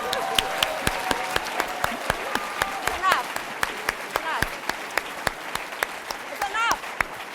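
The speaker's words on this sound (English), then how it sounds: "Oh, applaud the dean, come on." Graduation audience at a Harvard Law School ceremony applauding the dean, with sharp, separate claps ringing out in a steady rhythm over a murmur of voices and brief cheers.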